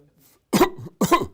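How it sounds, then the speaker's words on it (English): Two sharp, harsh coughs close to the listener, separated by a brief pause, with near silence before them. "You end up coughing. A lot of coughing."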